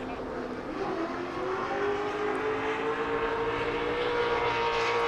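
A drift car engine at Irwindale Speedway's half-mile track holds a steady, droning roar at high revs, sustained and fairly distant throughout, with no talk.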